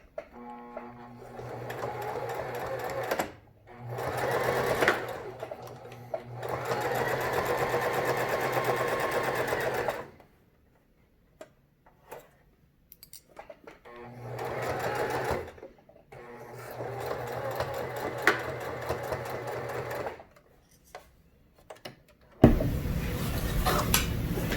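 A sewing machine stitches back and forth over elastic on a fabric face mask with a filter pocket, running in several close, rapid bursts separated by short pauses.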